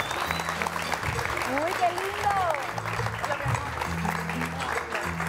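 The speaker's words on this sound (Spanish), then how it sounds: "un aplauso para Daniel" Studio audience applauding on a Spanish-language late-night variety show as a dancer is introduced for a short salsa number, steady clapping under an excited host's voice.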